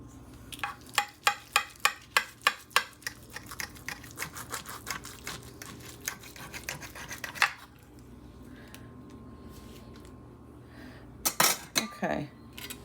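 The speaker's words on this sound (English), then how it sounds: "So, all right, we're gonna go ahead and slice it." Knife slicing through baked protein lasagna in its dish, a rapid series of sharp metallic taps and scrapes for several seconds, then quiet, then a few louder clinks of metal on the pan.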